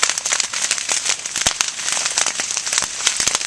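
Savanna grass fire crackles close by, dense sharp pops and snaps over a steady hissing roar, loud and continuous.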